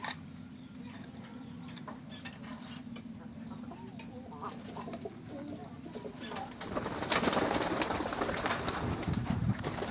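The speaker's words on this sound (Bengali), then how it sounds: "দেখো আমাদের কবুতরগুলো উড়ে উড়ে যাচ্ছে" Pigeons coo softly outdoors amid steady wind noise, their calls faint and intermittent before the wind swells louder toward the end.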